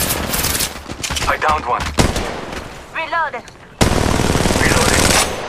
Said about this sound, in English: Firing! Getting shot at us!